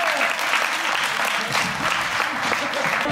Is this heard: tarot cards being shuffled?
no